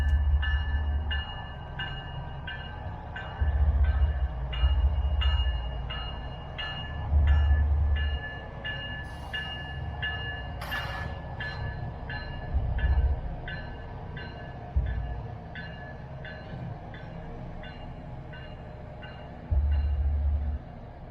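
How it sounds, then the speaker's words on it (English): A Florida East Coast Railway freight train with locomotives and an LNG fuel tender crawls at about 10 mph across the new Crane Creek bridge, steady rumble with rhythmic wheel thumps and clicks over the fresh track, close and continuous. "This train had a 10-mile-per-hour slow order across the bridge and new track"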